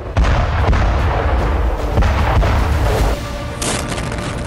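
Russian air strike on Ukrainian positions, with artillery fire and explosions sounding as a dense, continuous rumble of heavy booms and blasts, loud and close, with no voices.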